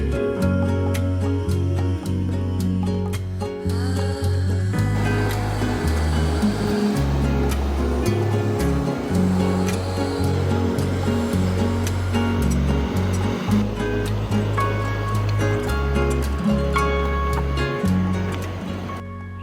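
Ocean surf breaking on a San Diego beach, a loud, steady roar of crashing waves close by with no voices heard.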